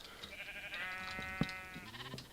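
A sheep bleats in Minecraft: one wavering, harmonic bleat sustained for about a second, with fainter game sounds around it and no talk.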